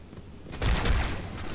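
Rapid bursts of gunfire from a firefight against Grunts in Halo 2, a dense rattling volley that swells suddenly and sustains to the end over a low game rumble.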